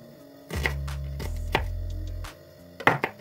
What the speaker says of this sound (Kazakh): Алдымен бір пиязымды уақтап турап алдым.